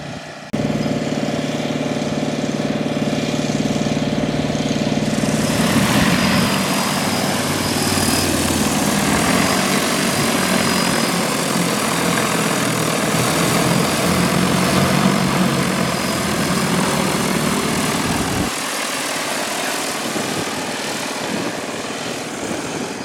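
An agricultural spraying drone flies over a winter canola field, its loud, steady rotor whine and buzz droning continuously close by, shifting slightly in pitch as it passes, with no talking.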